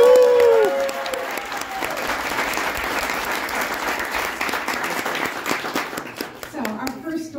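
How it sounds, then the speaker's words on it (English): An audience at a storytelling event breaks into steady applause, many hands clapping together for several seconds after a brief spoken line, fading out as a voice returns. "Yes, you may clap."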